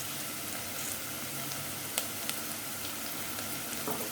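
Mustard seeds and dried chili sizzle in hot oil in a pot for cabbage curry, a dense, even crackle near and steady with a couple of faint pops.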